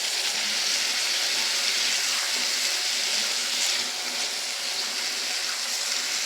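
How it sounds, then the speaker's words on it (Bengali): Water poured from a rinsed yogurt bowl into a pot of simmering desi chicken curry makes a steady, close splashing gush that runs unbroken from start to end. "সেই বাটিটা দিয়ে একটু জল দিয়ে দিলাম"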